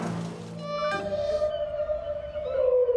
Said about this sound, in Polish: Gdzieś tam na morzu wieloryb wzywa przyjaciół.